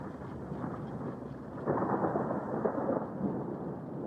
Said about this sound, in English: It's like, you can hear it's like a distant thunderstorm.